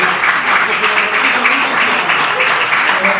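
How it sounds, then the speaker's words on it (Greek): Steady, dense applause from the audience at a Movement for Change (Kinima Allagis) political rally in Rethymno, Crete, holding at an even loudness throughout with no voices standing out. "ένα χειροκρότημα για τον Μανουέλ τον Τσιφωνάκη."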